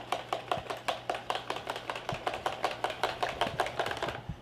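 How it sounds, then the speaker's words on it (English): Egg and mustard mixture whisked in a bowl: fast, steady, rhythmic clicking taps of the whisk against the bowl, fairly quiet and close, continuing throughout with no talk. "We're going to whisk this together."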